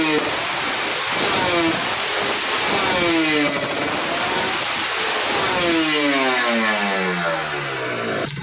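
A Kawasaki Ninja RR two-stroke with a PWK carburetor revs loudly to high RPM around 7000–8000, its raspy pitch climbing in repeated sweeps, close and sustained, with faint talk beneath.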